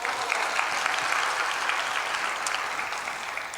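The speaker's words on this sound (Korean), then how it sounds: "이때 박수친 교회는 많지 않은데 역시 수준 높군요" Church congregation applauding, a full, steady wash of many people clapping together at close range, loud and sustained without any talking on top.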